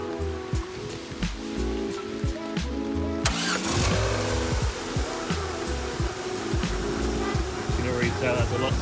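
A Ford Escort engine runs steadily just after an oil change, its low, even drone holding throughout with a sharper burst of noise partway in, while people talk over it.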